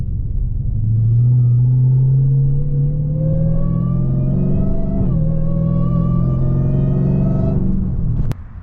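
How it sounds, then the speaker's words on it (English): Supercharged Dodge Hellcat engine revving steadily and loud for about seven seconds, its tone climbing with a rising whine, dipping briefly midway, then cutting off sharply near the end. "the first reason is probably the most obvious reason. Is because of the Supercharger and the Supercharger whine."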